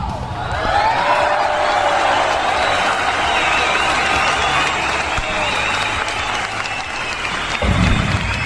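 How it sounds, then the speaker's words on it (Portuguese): Sustained applause from a crowd at a dominoes tournament gathering, dense steady clapping throughout with a few voices mixed in and a thump near the end. "Uma salva de palmas para o Chaves."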